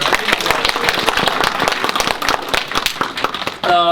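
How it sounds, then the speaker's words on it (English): Lively audience applause at a convention Q&A panel, dense clapping held steady and loud throughout before cutting off near the end. "Give him a round of applause."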